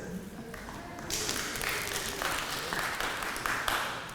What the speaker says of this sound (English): She got some clapping out of that one there